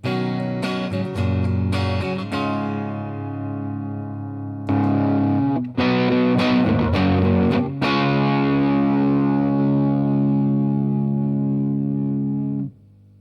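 An American Fender Telecaster on the neck pickup, no pedal, with a warmer, rounder tone strums a run of chords, then lets a final chord ring out and sustain before cutting off.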